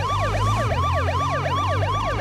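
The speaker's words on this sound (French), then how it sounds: "Il y a des sirènes de police." Police sirens wail in the H1Z1 battle royale game, several overlapping up-and-down sweeps cycling steadily and loudly over a low engine rumble, with no talk.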